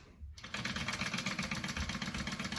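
A sewing machine sews the pocket pieces of a small bag, starting after a brief pause and then running at a fast, even, close-up rhythmic clatter.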